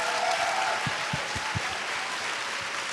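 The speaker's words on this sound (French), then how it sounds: "c'était Christiane Taubira que vous venez d'applaudir, que vous allez réapplaudir." A conference audience gives a short burst of applause, a dense wash of clapping with a few sharp, distinct claps standing out partway through.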